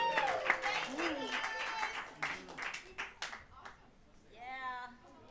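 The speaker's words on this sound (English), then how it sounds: "Another round of applause, you guys." Concert audience clapping and cheering in a burst of applause, fairly loud and close, with a voice talking over it and the clapping thinning out toward the end.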